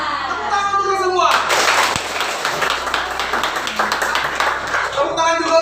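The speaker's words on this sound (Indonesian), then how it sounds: "Tepuk tangan dulu semua." Hands clap together in an elementary classroom, a burst of group clapping rising after a sung cue and filling the room, with children's voices and talk mixed in.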